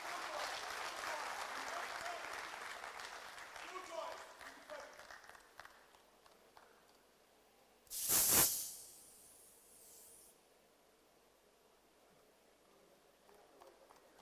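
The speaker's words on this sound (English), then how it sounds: "I think our national chairman deserves a better round of applause" Audience at an outdoor election rally applauding in a dense, steady patter that thins and fades out after several seconds, followed by a brief loud hiss and then quiet.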